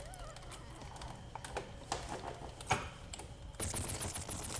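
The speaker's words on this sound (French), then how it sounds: "c'est le même cactus que tout à l'heure, sauf qu'il mitraille en rafale" The bandit cactus in Plants vs Zombies Garden Warfare 2 fires rapid bursts: quick volleys of sharp, rattling shots over game background noise, with a louder burst near the end. Nobody speaks.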